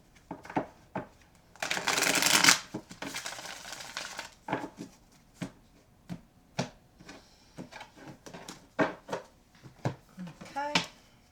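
Tarot cards shuffled by hand up close, a dense riffling burst followed by a string of soft taps and flicks as the deck is squared and cut again, fairly quiet and without talk.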